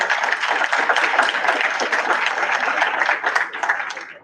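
A school board meeting audience gives loud, sustained applause during spring student recognitions, dense overlapping claps that hold steady before tapering at the end.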